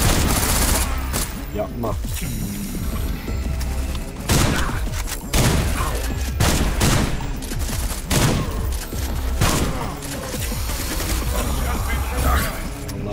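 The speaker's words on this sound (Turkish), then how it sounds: "SMG niye öyle üçlü üçlü atıyor?" Short SMG bursts of automatic gunfire crackle repeatedly through a firefight in the game SlavicPunk: Oldtimer, clustered in quick three-round bursts amid booms and thuds, with someone talking over the shooting.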